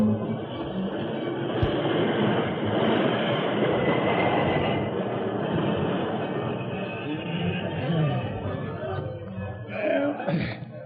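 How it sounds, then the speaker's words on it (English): A train rumbles steadily with rolling wheel noise and clatter, loud and close, with faint voices mixed in near the end. "Jim, stop the train."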